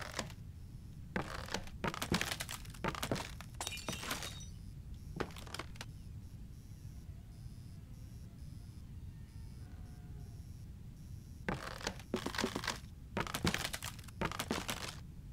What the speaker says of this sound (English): I heard a glass break over here.